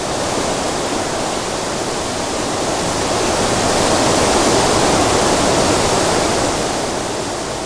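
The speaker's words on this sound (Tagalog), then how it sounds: "Ang sigaw ng hangin" Steady, dense broadband roar with no breaks, like strong wind blowing continuously, loud and unchanging for the whole stretch.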